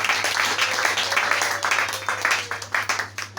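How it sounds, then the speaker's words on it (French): A church congregation applauds to praise the Lord, a steady run of rhythmic claps over a low constant hum, moderately loud throughout. "Acclamons le Seigneur pour ça."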